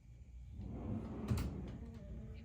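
A large drawer in a van slides open and shut, with soft wooden knocks and a sharper clack in the middle, quiet and close in a small interior.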